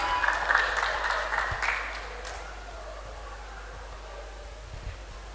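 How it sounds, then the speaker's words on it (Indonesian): Applause from an audience at a regional culture week event in Palembang for a performing team from Pali, fairly distant and fading over a couple of seconds into a low hum of the hall. "kita beri tepuk tangan yang meriah sekali lagi untuk tim dari Pali"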